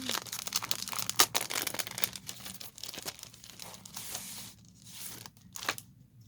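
Packaging being torn open and wrapping crinkled by hand to unpack a newly delivered product, with irregular close crackling and ripping bursts that stay fairly loud for the first few seconds, then thin out into quieter rustles with brief pauses.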